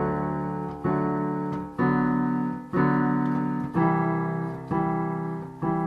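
Solo piano playing a gentle song's pre-chorus: six evenly spaced chords struck roughly once a second, each ringing and fading before the next, close and without any talk.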